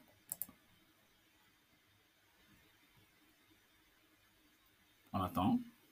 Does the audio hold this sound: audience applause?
no